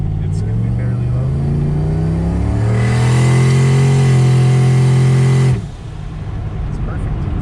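An LS-swapped, turbocharged GMC Syclone engine runs loud and close, its droning note climbing and holding at high revs for several seconds before cutting off sharply to a lower idle.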